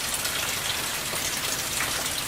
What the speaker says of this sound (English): Rainy, cold Sunday.